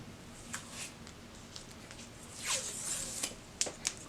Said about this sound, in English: maybe I should take the tape off.